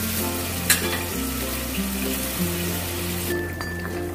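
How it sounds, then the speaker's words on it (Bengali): Water boils and bubbles in a pan with bitter gourd and potato, a close steady sizzling crackle with a low hum beneath it, with no talk. "দেখো জলটা দিয়ে ভালো করে ফুটে গেছে"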